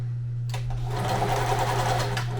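A roughly 60-year-old sewing machine runs steadily, its motor humming with a rapid stitching rattle that starts abruptly and continues close and loud.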